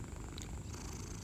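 A pet cat purrs in a steady, close, low rumbling drone that continues without break, alone and fairly quiet.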